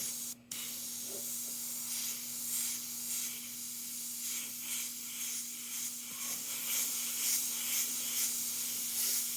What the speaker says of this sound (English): Just mist over that area.